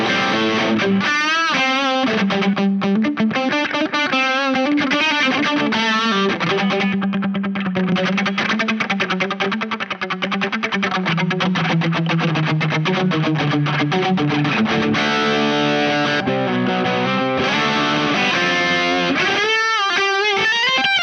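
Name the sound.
guitar through Brothers AM treble boost into drive pedal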